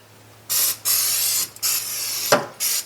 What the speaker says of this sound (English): I'll give this a little spray with my non-stick